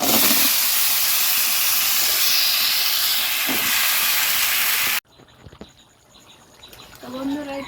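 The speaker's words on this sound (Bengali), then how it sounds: "ভালোভাবে মশলাটা কষানো হয়ে গেছে, এবার এখন সবজিগুলো দিয়ে দেবো" Vegetables go into a pan of sizzling fried spice paste, a loud, continuous hiss of frying oil that cuts off abruptly, followed by quieter kitchen noises.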